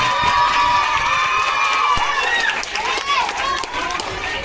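A big crowd cheers and claps loudly and steadily for teachers at a school annual function award ceremony, with voices and children shouting mixed into the applause.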